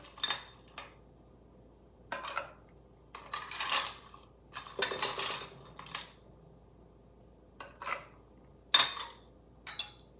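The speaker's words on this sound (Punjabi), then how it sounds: "ਹੁਣ ਇਹਦੇ ਵਿੱਚ ਜੀ ਆਪਾਂ ਆਈਸ ਪਾਵਾਂਗੇ ਦੋ ਤਿੰਨ ਹਾਂਜੀ ਪੀਸ" Two or three ice cubes dropped into a Gond Katira summer drink, giving a run of sharp clinks and clatters against the glass in irregular bursts, close and crisp over a quiet background.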